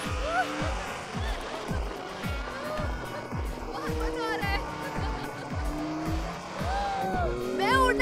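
A car driven fast in a Turkish film dubbed into Arabic: engine revs rise and fall in repeated surges with tire squeal, while voices talk over it.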